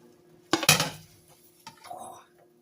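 A breakfast quesadilla is flipped out of a pan onto a plate, giving a sharp clatter of metal and crockery followed by a softer scrape and thud in a quiet kitchen.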